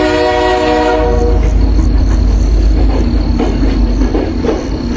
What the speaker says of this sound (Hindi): कि तभी जोर से ट्रेन के हॉर्न की आवाज आई।